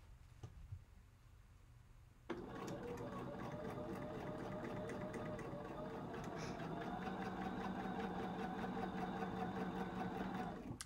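A freshly oiled sewing machine starts up after a few quiet seconds and runs steadily at a constant hum, stitching close by with a faint voice in the background, during a quilting class.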